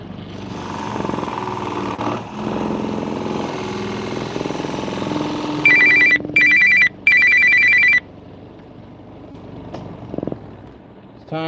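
A phone rings with an incoming call in three bursts of a bright electronic ringtone, loud and near, while someone talks over a low engine-like rumble before the ringing.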